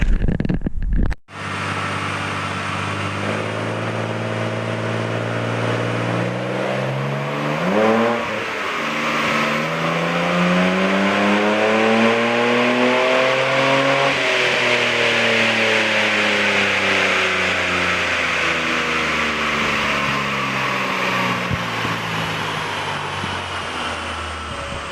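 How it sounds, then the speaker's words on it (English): A 1985 BMW 635CSI roars on a dyno, the engine climbing steadily through the revs in a long loud sweep, easing slightly and pulling again, close and sustained after a brief cut at the start. "I had the car dynoed"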